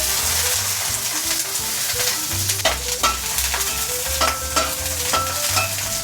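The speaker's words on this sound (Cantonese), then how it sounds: "亦都係爆香啲蒜頭" Garlic and shallots fry in a hot wok with a loud, continuous sizzle, broken by sharp clinks and scrapes of a spatula as they are tossed, close and steady with no talking.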